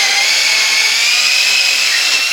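Power drill boring a hole in wood for a bead in a segmented Beads of Courage box, a steady high whine running continuously and loud close by with no talk.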